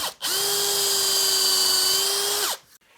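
A power drill runs steadily for over two seconds, finishing holes on a Les Paul Junior style guitar body. It is loud, close and continuous with a high whine, then cuts off abruptly.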